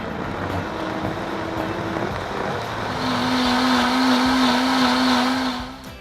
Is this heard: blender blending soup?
yes